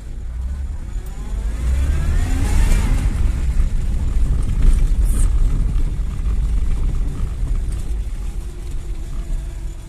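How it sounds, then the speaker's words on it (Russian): A VAZ 2103 car engine with a knocking fault and a worn clutch runs steadily at close range. It gives a continuous rumbling drone for about ten seconds with no speech. "И тихая работа мотора."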